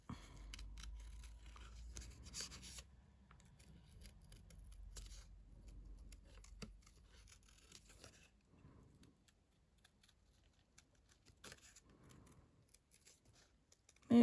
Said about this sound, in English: Letting the paper and the scissors do the work for you.